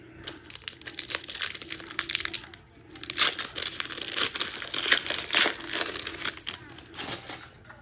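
A foil pack of Select trading cards is torn open by hand, producing close, continuous crinkling and ripping with sharp bursts, a short lull, then more crackling foil handling.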